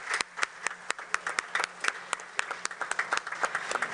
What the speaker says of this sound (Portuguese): Nós temos um casal, merece palmas